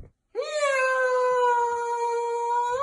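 A man imitates a cat with one long, sustained meow that rises slightly at the end, loud and close after a brief silence.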